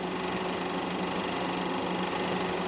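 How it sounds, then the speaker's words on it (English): Racing sports cars, including Corvettes, pass on a road course. Their engines give a steady, loud, continuous drone that holds a constant pitch with no talk over it. "There's Jowett in the lead, and he's followed closely by McElroy and another Corvette"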